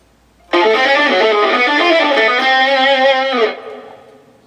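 Bebop jazz guitar lick over a 2-5 chord progression in C, played with an effects-tinged electric tone as a steady run of quick single notes lasting about three seconds, then ringing out and fading.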